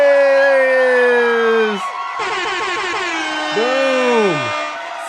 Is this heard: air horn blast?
yes